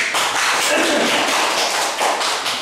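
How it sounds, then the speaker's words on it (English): Dense, steady applause from a live audience at a hypnosis demonstration, many hands clapping at once close by with no voices over it. "Round of applause."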